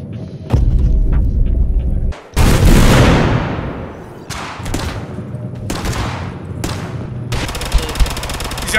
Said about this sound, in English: He's got infinite shooting.